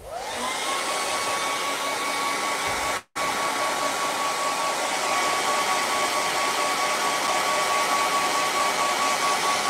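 A hair dryer blows on wet grey paint on a painting, making a loud, steady whooshing drone with a constant whine. It cuts out very briefly near the start and then runs on unchanged.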